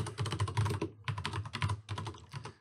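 Rapid typing on a computer keyboard, a dense close-up run of key clicks in quick bursts with short pauses between them, and no talking.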